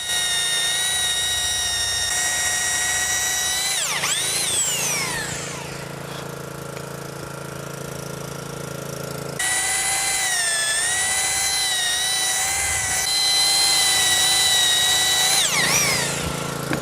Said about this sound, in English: Oak is a very hard wood, and Phil has to lean heavily on his drill.